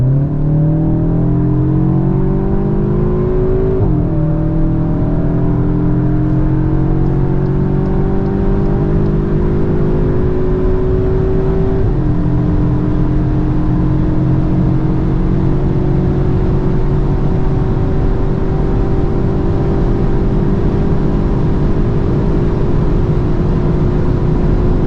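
A 2024 Cupra Formentor VZ 310 fitted with an Akrapovic exhaust accelerates hard from 0 to 240 km/h, its loud engine droning and rising in pitch through gear changes, heard from inside the car.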